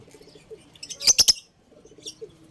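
Birds in an aviary colony chirp nearby in a quick run of bright, sharp calls, with softer cooing and chatter around them.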